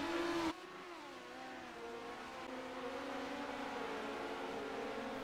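Midget race cars at the Chili Bowl indoor dirt track, engines roaring continuously at high revs with shifting pitch through the turns, loud and steady after an abrupt drop at the start.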